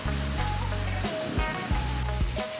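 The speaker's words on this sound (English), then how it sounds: "I put on my jacket because it started lashing rain" Heavy rain lashes down outdoors in Bruges, a dense steady hiss with patters and splashes close by, joined by low rumbling background noise.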